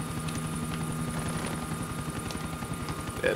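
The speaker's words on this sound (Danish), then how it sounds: "Du kan jo tage den anden helikopter." A helicopter in the GTA IV video game flies with a steady, loud rotor thrum and engine whine, continuous throughout with even rhythmic chopping and no talk.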